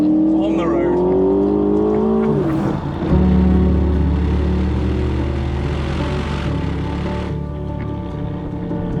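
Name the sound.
Aston Martin DBX SUV driving on road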